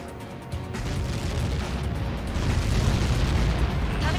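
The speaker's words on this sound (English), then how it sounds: "How many got caught in that explosion?" An explosion in the air-combat video game Ace Combat 7, a deep, swelling rumbling boom that builds and sustains loudly for several seconds with heavy low-end roar.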